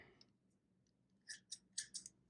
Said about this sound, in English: you basically just have these like super handy travel scissors